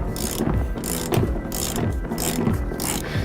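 Ratchet wrench breaking loose and backing out the seat bolts in a 2003-2007 Ford F-250 crew cab, a steady series of close, rhythmic clicking and scraping strokes in bursts, with no talking.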